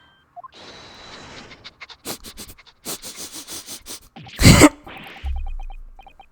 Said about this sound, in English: Well, Chief Inspector Toby, if you don't mind having a sniff of this.